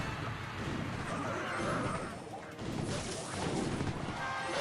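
The Log spell in the mobile game Clash Royale rolling across the arena and crashing into troops, a dense, loud rumbling smash that sustains for several seconds amid game effects.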